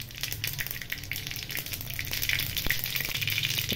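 Fennel seeds, mustard seeds and a bay leaf hit hot oil in a pan for breakfast upma, making a loud, steady, crackling sizzle close up with scattered pops and no voices.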